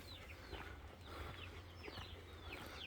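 Bantam and Easter egger chickens cluck and chirp softly in a coop, several quiet overlapping calls over a low background hum.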